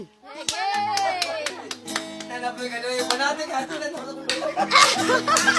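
An audience claps after a Bisaya poetry recital: scattered, uneven hand claps and chuckling laughter mixed with people talking, growing busier toward the end.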